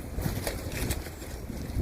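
Gusty wind buffets the microphone outdoors while a hammock tarp is being rigged at a campsite, a steady low rumble with soft flapping swells throughout, no talk.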